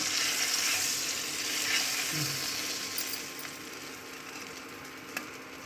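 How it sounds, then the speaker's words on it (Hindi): Chicken shami kababs frying in hot oil give a steady, close sizzle with soft crackle throughout, with a few faint clicks and no talking. "फ्राई कर रहा है।"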